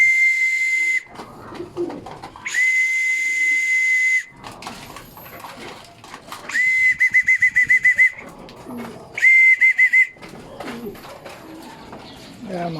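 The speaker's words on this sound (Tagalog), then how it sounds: "maganda tong whistle na to, hindi masakit sa tenga" A pigeon-calling whistle sounds at a loft where pigeons are being fed, blown in several long steady high tones and a stuttered trill, with pigeons cooing and wings flapping in between, close and clear.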